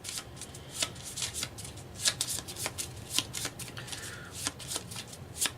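Cards from the Pandemic board game are shuffled close by, with rapid riffling bursts repeating steadily, each flutter ending in a soft snap as the deck squares up.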